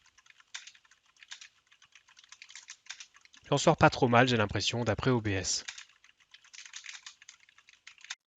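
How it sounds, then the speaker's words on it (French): Rapid, light clacking of a Corsair K70 mechanical keyboard with MX Red switches runs throughout, pausing briefly while someone speaks in the middle. "le test du clavier mécanique qui est un clavier Corsair K70 équipé de switch MX Red"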